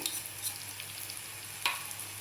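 Tomatoes, turmeric and coarsely crushed peanuts are stirred together in a hot pan, giving a steady soft sizzle broken by a few spatula scrapes, one sharper near the end.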